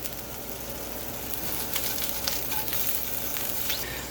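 Shrimp fry in a hot pan for shrimp fried rice, giving a steady, close, bright sizzle with faint crackles and pops throughout, no voices.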